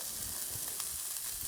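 A beef roast sears in a hot pan, giving a steady, close sizzle with faint crackles running throughout, no voices over it.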